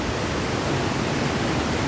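Loud, constant roar of water rushing out of the Dhamasiya dam into the Ashwin river, dense and unbroken like a heavy outflow, filling the whole short clip with no voices.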